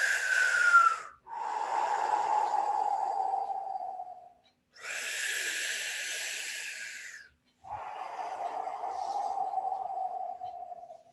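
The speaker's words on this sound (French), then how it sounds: "vous allez simplement respirer par la bouche en faisant un petit O avec la bouche" Slow, deliberate breaths during a postnatal yoga session, each long exhale pushed through lips rounded in a small O, alternating with sharper inhales across about three full cycles, close and fairly loud.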